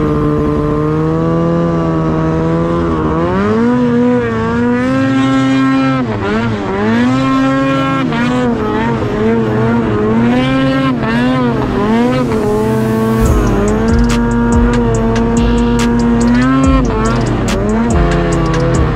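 Snowmobile engine revving hard as it approaches and passes through deep powder in the Alaska Range, a loud, close buzzing drone whose pitch repeatedly swells and dips with the throttle before a sudden roaring rush.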